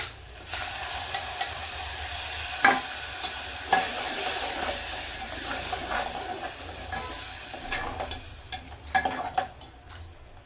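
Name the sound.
tomato paste with spices cooking in a pan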